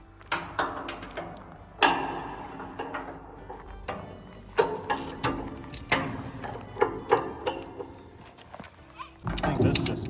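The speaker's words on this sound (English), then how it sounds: "Pretty beefy ratchet strap" A heavy-duty ratchet strap, run through the top posts of a shipping container, is cranked tight during delivery, giving close, irregular bursts of sharp metallic clicks and ratcheting over a low rumble, with occasional voices nearby.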